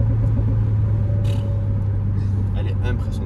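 A Renault Megane 4 RS engine drones with a steady low exhaust hum from inside the car, with faint crackles near the end that could be exhaust pops.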